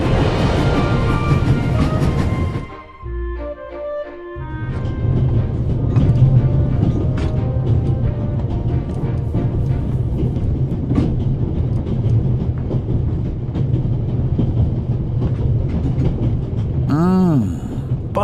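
A train runs at full speed in the video game The Raven: Legacy of the Master Thief, a loud continuous rumble and rattle of wagons that briefly drops out early, then resumes with a swooping tonal whine near the end.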